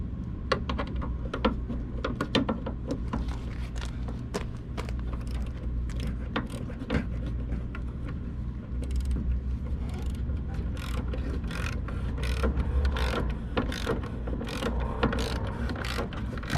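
A ratchet clicks rapidly and steadily while driving two screws during a tow package electrical install, a close, continuous run of sharp mechanical ticks over a low background hum.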